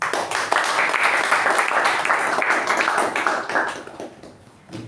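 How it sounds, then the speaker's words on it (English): A room full of people applauds steadily, dense clapping that holds for several seconds before thinning out toward the end. "let's give them a huge round of applause"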